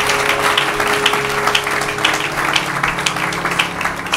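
A church congregation applauds steadily throughout, a dense, even wash of many hands clapping with a faint sustained tone underneath, moderately loud and filling the room.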